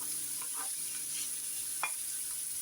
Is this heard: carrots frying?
yes